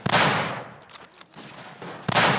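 Loud, close gunfire rings out in the World War I shooter game Tannenberg, with a sharp shot at the start and another near the end, each trailing off in a long decaying echo and scattered fainter reports between.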